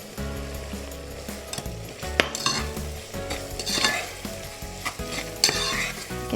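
Onions fry in a pan with sugar added, a steady close sizzle under repeated scraping and clinking of a utensil stirring against the metal.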